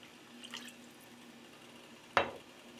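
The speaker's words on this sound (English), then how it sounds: "I'm just going to add a little water to it and thin it out just a little bit" Water is poured into a simmering pan of pasta sauce for baked spaghetti and meatballs, giving one short, close splash and trickle against a quiet kitchen background.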